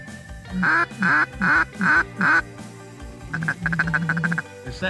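Ducks quack loudly and close during a duck hunt, five evenly spaced calls followed by a quicker run of overlapping quacks, with faint background noise between them.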